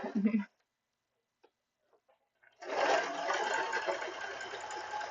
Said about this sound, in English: I'm still sewing a strap apparently.